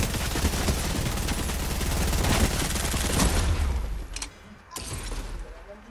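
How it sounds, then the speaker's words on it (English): Dense, loud burst of rapid video-game gunfire, a sustained automatic fusillade that cuts off abruptly, followed by a couple of fainter shots and thuds. "I shot him in the air."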